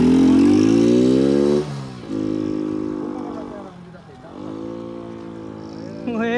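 A modified Hero Splendor motorcycle with its air filter removed and big tyres revs hard, its engine note climbing in repeated rising bursts with brief drops between, loud and close.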